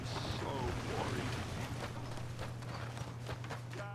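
Horse hooves clip-clopping in the Western video game Red Dead Redemption 2, a soft, distant patter over steady game ambience and a low hum, with faint voices in the background.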